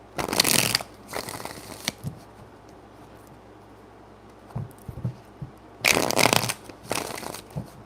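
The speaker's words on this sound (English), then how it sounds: "Three more shuffles." A deck of tarot cards shuffled by hand, several crisp riffling bursts at the start and again near the end with softer taps in between, close and clear without talk.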